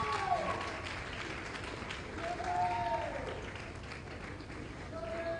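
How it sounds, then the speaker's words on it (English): Audience applause for Caleb British International School, first in a written test at an annual schools' challenge, a steady wash of clapping throughout with voices and tonal sounds rising over it. "a thunderous round of applause for the school that came first in written test, Caleb British International School"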